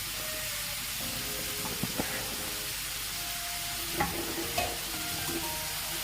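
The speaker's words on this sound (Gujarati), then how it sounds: "આ રીતે મીડિયમ ફ્લેમ પર આપણે થોડી વાર હલાવતા રહી અને એને કૂક કરી લઈશું." Tomato and dal stirred and sautéed in a pan over a medium flame, a steady quiet sizzle broken by a few sharp scrapes and taps of the spoon, close by and with no talking.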